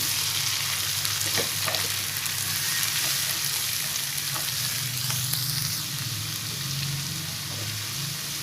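Sweet and sour gourami cooking in a pan: a loud, steady sizzle of frying fills the whole stretch, with occasional soft scraping as the contents are stirred, and no talking.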